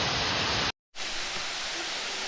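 Wei Sawdong waterfall in Cherrapunji, Meghalaya, roars as a steady broadband rush of falling water, cut by a brief silent gap before the same dense, continuous wash resumes.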